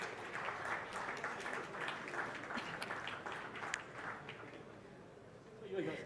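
Audience applause at a national management convention, welcoming the managing director and CEO of Tata Chemicals and other speakers, a steady wash of many hands clapping through most of the stretch, fading slightly toward the end with voices mixed in.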